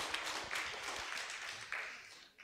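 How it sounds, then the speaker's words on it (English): A church congregation clapping for a young boy named Max during Sunday morning worship at a United Reformed Church, fairly quiet and distant, sustained for a couple of seconds. "Let's give Max a clap."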